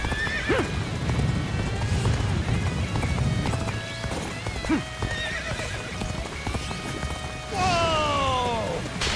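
Hooves clip-clop rapidly as a horse gallops amid a busy Dynasty Warriors: Origins game soundscape, with a loud whinny near the end and occasional voices.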